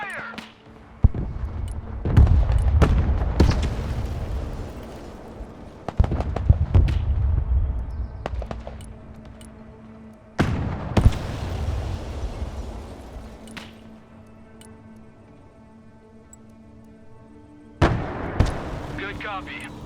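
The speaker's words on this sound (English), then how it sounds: "Troop transport taking fire!" Heavy booms and rapid gunfire from the Broken Arrow war game, loud close blasts with rumbling tails, several bursts spaced over the stretch with a quieter lull between.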